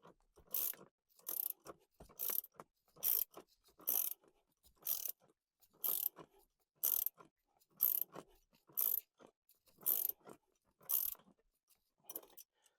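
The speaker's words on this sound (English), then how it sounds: "I can use my ratchet and do the rest by hand." Hand ratchet turning a bolt during installation of a center console molle cage, crisp rapid clicking bursts repeating about once per second, close and alone in a quiet space.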